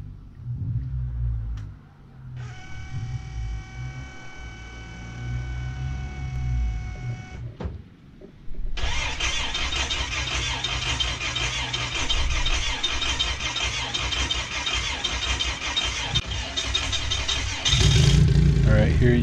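A car engine cranks and fires up, then settles into a loud steady idle after a stretch of mechanical whirring, with a voice talking over it.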